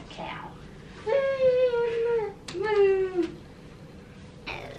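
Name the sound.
child imitating cat meow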